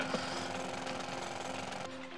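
A drill digs through terrain in the video game Worms Armageddon, a steady rapid jackhammer-like rattle that runs continuously at moderate level, then cuts out near the end, with no speech.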